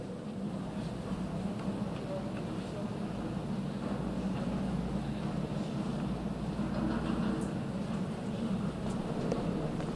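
Train ambience in the adventure game The Raven Remastered, with a train held up at a station: a continuous low rumble and hum with faint rail clatter, steady and even throughout.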